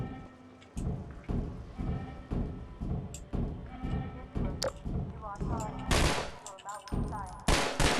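Rapid bursts of gunfire from Half-Life 2 crack out at a steady rhythm, joined by sharper, louder shots near the end over a continuous game background.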